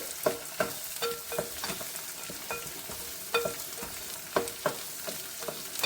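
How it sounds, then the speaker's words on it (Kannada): Green peas upma ingredients are roasted in a pan, a soft continuous sizzle broken by repeated scraping and clinking stirring strokes at an uneven rhythm. "ಇದನ್ನು ಚೆನ್ನಾಗಿ ಒಂದು 3-4 ನಿಮಿಷ ಚೆನ್ನಾಗಿ ಅದರದ್ದು ಹಸಿ ವಾಸನೆ ಹೋಗೋ ತನಕ ಹುರ್ಕೊಳ್ಳೋಣ"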